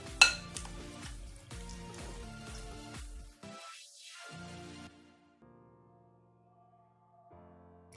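A spoon clinks and scrapes against a bowl as heavy cream is mixed into a chicken marinade. A few quick, quiet clatters come first, then the mixing fades toward near silence.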